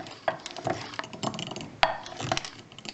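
A spoon stirring and scraping homemade vanilla and Cadbury Flake ice cream mixture in a bowl, with soft intermittent clinks and one sharper knock.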